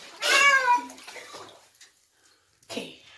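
A pet cat named Mina is washed in warm water in a home bath. One clear, loud meow is followed by faint splashing and a soft voice, and then a brief second cry or splash.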